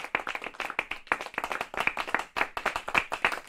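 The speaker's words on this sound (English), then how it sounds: "I deserve an applause for this." Brisk applause from a small group, steady rapid clapping that continues throughout, close and moderately loud.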